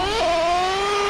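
Nitro engine of a Traxxas T-Maxx 3.3 RC truck revving high and steady, its pitch climbing briefly then holding as a loud, close, continuous whine during a race.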